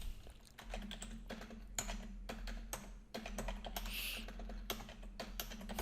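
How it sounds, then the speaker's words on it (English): Fast typing on a computer keyboard, dense irregular key clicks close up over a low steady hum, continuing for several seconds without speech. "when you're talking and trying to type, it's way harder than just typing it yourself"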